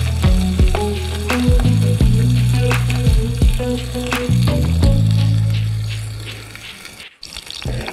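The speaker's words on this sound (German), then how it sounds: "Es zischt und brutzelt, genau so soll es sein." Shrimp sizzle and crackle loudly in a hot cast-iron pan, with sharp pops and spits over a continuous frying hiss, close up and with no talking, as they are stirred around.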